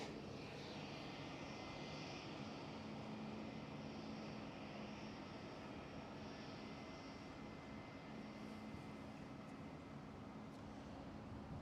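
A KLM Cityhopper aircraft waits to depart at Schiphol, its engines a constant, even hum at a distance with no speech.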